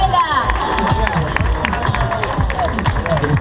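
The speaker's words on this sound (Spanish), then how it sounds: "Daniela Núñez, un aplauso grande, Daniela." A crowd cheers and claps for runners finishing a McDonald's 5 km race in Montevideo. The applause and shouting are dense and continuous, with an announcer talking over them.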